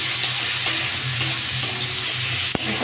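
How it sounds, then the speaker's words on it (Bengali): Cabbage and potato chochori with onion, tomato and salt frying in a pan: a steady loud sizzle broken by regular scrapes as it is stirred, then one sharp clack near the end. "একটু নেড়ে চেড়ে ভেজে নেবো।"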